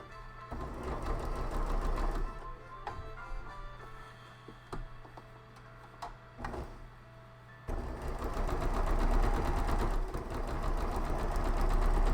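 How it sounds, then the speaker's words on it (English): A sewing machine stitching bow ties runs in busy, mechanical bursts, pausing briefly midway before whirring steadily again, close and fairly quiet with no talking. "I'll just be here sewing my bow ties."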